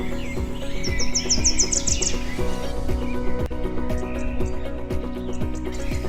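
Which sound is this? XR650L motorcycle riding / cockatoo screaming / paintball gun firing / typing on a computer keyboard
cockatoo screaming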